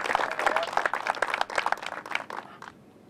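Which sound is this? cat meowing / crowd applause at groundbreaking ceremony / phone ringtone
crowd applause at groundbreaking ceremony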